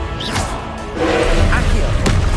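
A Confringo blasting spell goes off in Hogwarts Legacy: a dense burst of magical noise that swells after a second and holds, with a sharp crack near the end, loud and close over continuous game sound.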